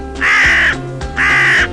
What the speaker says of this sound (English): Crow, crow, crow, crow.